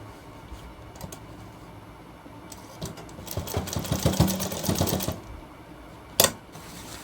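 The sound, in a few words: sewing machine stitching a shirt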